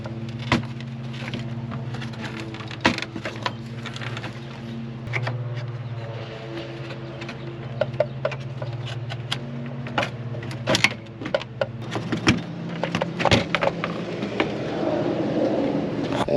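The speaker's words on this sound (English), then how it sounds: "insert your straight blade screwdriver, and you're just going to lip it on out" Plastic grille clips on a GMC Yukon Denali being pried out with a flat-blade screwdriver: scattered sharp close-up clicks and snaps over a low steady hum, with no talking.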